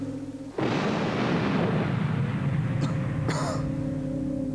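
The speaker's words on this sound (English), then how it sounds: "A cannon? Yes, of course a cannon." A cannon firing in a 1987 Australian TV advert: one sudden loud boom that rolls into a sustained broad roar lasting several seconds, with a couple of brief sharp clanks near the end.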